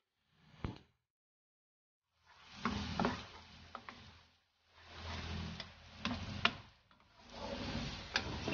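Garlic sizzles in hot melted butter in several separate bursts of frying hiss, broken by quiet gaps, with sharp ticks of a utensil stirring and tapping the pan.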